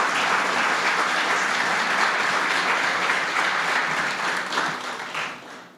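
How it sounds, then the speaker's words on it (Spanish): Applause in a church during a resurrection sermon: many people clapping together in a continuous, full roar that tapers slightly at the end. "Dale un aplauso al Señor, hermano."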